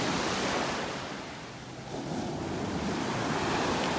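Ocean waves wash onto a beach in North Naples, Florida, a continuous broad roar of surf that eases briefly and then swells again, with some wind noise on the microphone and no voices.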